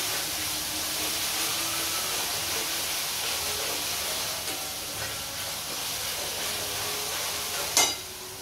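Onions sautéing with a pinch of salt in a pan for pav bhaji, a steady close sizzle and hiss throughout with a sharp clatter near the end.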